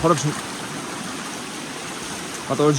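Brazil's largest river flows through the Amazon rainforest in a steady, broad rush of water that holds evenly the whole time, with brief voices at the very start and end.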